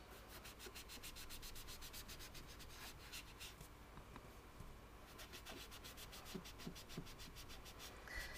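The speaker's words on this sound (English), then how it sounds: "I'm just going to keep rubbing and rubbing so that I can blend that all in" Steady dry rubbing on card stock, a continuous soft scratchy friction with fast repeated strokes blending ink in, close and fairly quiet, with no voices.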